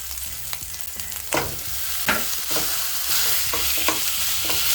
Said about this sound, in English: it's time to go in with my minced meat.